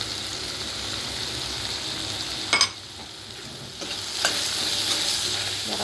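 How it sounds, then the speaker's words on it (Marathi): Masala spices with turmeric and chili powder being stir-fried in a pan with mutton, a steady sizzle under scraping stirs, with a couple of sharp utensil clanks against the pan. "जरा परतून घ्या।"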